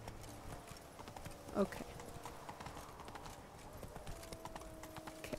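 Hoofbeats from Roach, the horse in The Witcher 3 game, clop steadily throughout, with a single short whinny near the start while a voice speaks briefly over the game sound.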